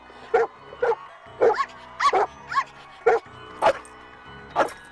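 Dogs in a live-action Scooby-Doo film give about ten short, sharp barks and yips at a quick, irregular pace, close and clear against a quiet background.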